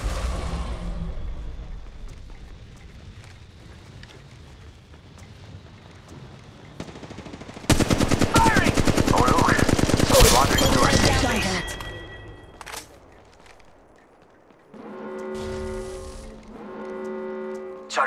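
Gunfire in Apex Legends Mobile, with a sustained rapid burst of automatic shots in the middle, preceded by quieter game noise and followed by electronic tonal effects and a second short tonal pattern.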